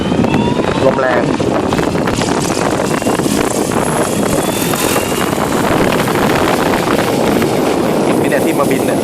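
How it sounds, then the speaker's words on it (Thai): Strong gusting wind roars across the microphone while an ALZRC Devil 505 RC helicopter with a high-voltage 1,200 kV brushless motor is flown outdoors, a loud constant buffeting rush that mostly buries the rotor whine. "ลมแรงน่าดูเลยนะฮะ"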